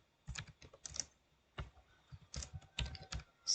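Keys clatter on a computer keyboard in short bursts of quick taps separated by brief pauses, close and fairly quiet, with no voices.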